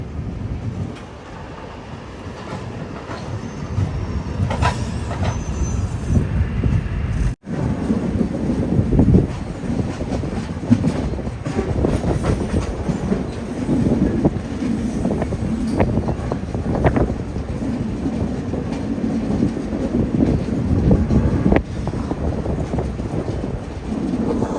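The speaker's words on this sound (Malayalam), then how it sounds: "അങ്ങനെ റേണിഗുണ്ടയിൽ നിന്ന് ട്രെയിൻ എടുത്തിരിക്കുകയാണ്." The Vivek Express runs on after leaving Renigunta, a steady loud rumble and rattle of the moving train heard from inside, with a brief dropout partway through and continuous rolling noise throughout.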